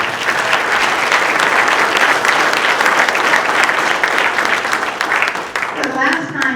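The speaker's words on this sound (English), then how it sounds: "Let's give him an applause." Breakfast audience at a Route 66 VIP event applauds loudly and steadily for several seconds. The clapping tapers off near the end as a voice begins to speak.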